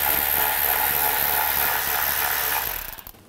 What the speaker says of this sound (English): I'm going to take this bolt out right here.